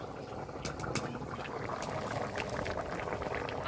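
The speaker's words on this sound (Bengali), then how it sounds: "তরকারির ঝোলে ফুট দিয়েছে" Potato curry gravy for small-potato aloo dum bubbles and simmers in a pot, a soft, steady burble with scattered popping bubbles, fairly faint and close.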